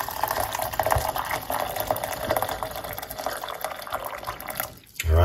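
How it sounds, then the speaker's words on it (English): Hot water poured into a cup for tea, a continuous loud splashing stream that stops abruptly with a thud near the end. "So we're going to put in hot water."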